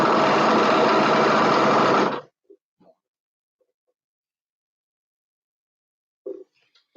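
A sewing machine stitches fabric in a fast, steady whir for about two seconds, then stops abruptly, followed by a few faint clicks and a short mechanical burst near the end.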